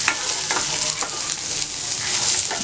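Garlic and onion sautéing in hot oil for a pirandai (adamant creeper) chutney, a steady loud sizzle with occasional stirring scrapes from a spoon in the pan.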